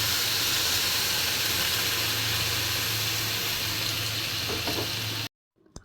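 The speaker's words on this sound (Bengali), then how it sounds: "এখন গরম পানি দিয়ে দিচ্ছি।" Hot water poured into a pan of fried rice for pulao sets off a loud, steady hissing sizzle of steam that runs unbroken for about five seconds, then stops abruptly.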